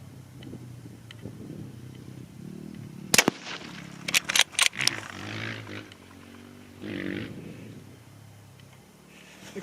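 Several sharp rifle shots from a Tikka T3x chambered in 22-250 Rem, first one loud crack, then a quick cluster of three or four close reports, followed by a quieter ringing tail in an outdoor setting.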